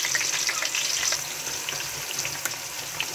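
Chopped onions frying in a pot for a chicken stew, a steady close hiss and crackle of sizzling with occasional brighter pops and light stirring scrapes, no voices.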